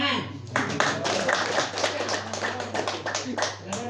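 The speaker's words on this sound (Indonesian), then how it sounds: "Tepuk tangan." Congregation members clap at a Christian fellowship gathering, a dense burst of hand claps with voices underneath, close and steady for a few seconds.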